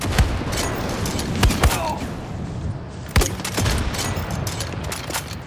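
Gunshots in Far Cry 6, several sharp loud reports scattered irregularly across the stretch, including a close pair near the middle and another crack later, over a busy background of game noise.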